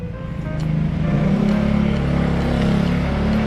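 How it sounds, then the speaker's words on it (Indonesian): A motorbike moves past on a narrow residential lane outside a rented house, its engine note building and holding as a loud, steady rumble close by. "Itu udah ada motor mau lewat."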